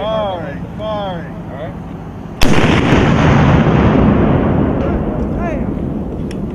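A Carl-Gustaf M4 recoilless multi-role weapon fires once with a sharp, very loud blast that rolls into a long rumbling decay, after voices shouting commands on the range.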